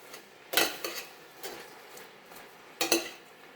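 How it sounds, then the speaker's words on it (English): A spoon clinks and scrapes against a pot while stirring cabbage soup seasoned with allspice, with a few sharp metallic knocks spaced irregularly over a quiet background. "So I'm going to stir all that in there"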